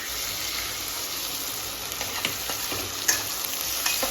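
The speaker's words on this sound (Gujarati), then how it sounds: "આ ડુંગળી શેકાઈ ગઈ છે હવે એમાં થોડા આદુ મરચાં અને લસણની પેસ્ટ નાખીશું એમાં સિંગદાણા નાખીશું" Onion browning in a pan for Gujarati vagharela khichdi, with ginger-chili-garlic paste and peanuts added; a steady, dense sizzle runs throughout with a few stirring scrapes near the end and no talking.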